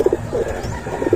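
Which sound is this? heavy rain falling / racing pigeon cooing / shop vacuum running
racing pigeon cooing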